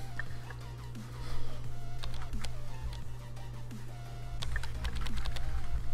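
Computer keyboard typing in the game Emily Is Away, a run of quick, close clicking keystrokes in uneven bursts with short pauses, over a low steady hum.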